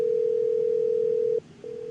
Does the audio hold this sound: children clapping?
no